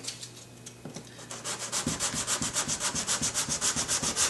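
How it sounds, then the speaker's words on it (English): Sandpaper rubbed by hand over guide coat on a car body panel during paint prep, starting with a few light strokes and then settling into loud, rhythmic back-and-forth scrubbing strokes close by. "didn't quite get it sanded where we got all the guide coat out of it. Try and keep your sandpaper clean"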